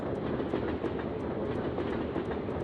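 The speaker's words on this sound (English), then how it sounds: "I can tell where I am just by the sound of the train." A train rolls past in the video game Syphon Filter: a loud, steady rumbling roar with a regular clickety-clack of wheels over rail joints, close and alone, with no voices.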